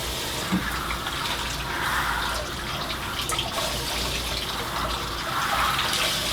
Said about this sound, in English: So, I'm just going to rinse it.